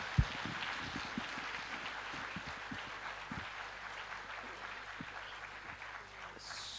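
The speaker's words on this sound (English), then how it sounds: "I request all the participant to give a big round of applause for his thought-provoking lectures." Scattered audience applause after a lecture at a health and biological sciences conference, fairly faint and distant, with irregular claps continuing for several seconds.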